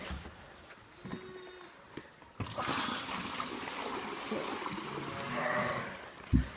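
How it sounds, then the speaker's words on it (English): Sheep bleat from a short distance over steady outdoor farm background noise, with a few thumps and one louder cry near the end. "the sheep are starting to yell"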